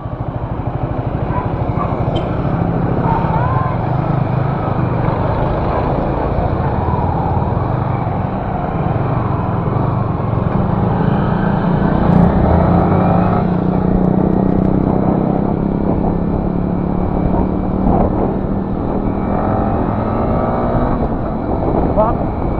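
A Yamaha R15 V3 motorcycle engine drones steadily while riding on a highway, with constant wind and road rumble throughout and no clear pauses.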